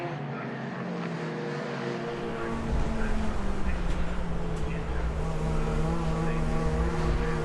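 Ford Fiesta race cars roar past at Brands Hatch during a championship meeting, engine noise building sharply partway through into a loud sustained rush as cars cross the line.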